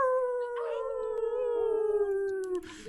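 Several voices join in a long, drawn-out imitation of a wolf howl during a full moon group meditation, a sustained gliding tone held for about three seconds and rising slightly before fading.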